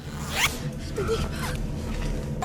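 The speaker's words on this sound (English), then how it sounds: "Just put your hood up, zip it shut" A hoodie zipper zipped shut in one quick, close rasping pull near the start, followed by low rumbling background noise and faint movement.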